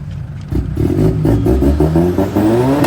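A car engine revs up repeatedly, close and loud, its pitch climbing in a series of quick throttle blips.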